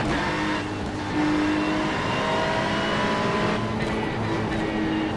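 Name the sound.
GT3 race car engine with wheel spin in iRacing video game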